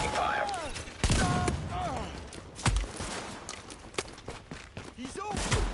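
Gunfire from hostile enemies in The Division, sharp cracks and bursts scattered across the scene amid game noise, with voices talking over the shooting.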